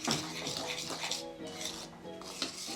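Dry ingredients for vegan pumpkin spice donuts are mixed in a bowl with a utensil, making a steady close scraping and clinking that runs throughout, with a voice talking faintly underneath.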